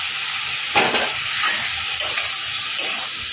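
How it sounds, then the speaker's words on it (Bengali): Fried potato, pointed gourd and pumpkin are stirred with spices in a frying pan for a Bengali vegetarian labra, a continuous close sizzle broken by several soft scrapes of a spatula. "ভালো করে মশলাটাকে মিশিয়ে নিচ্ছি।"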